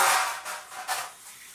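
Water runs from a kitchen tap for hand washing during cooking, a steady broadband hiss that rises and falls in short surges and then tapers off, close by and alone.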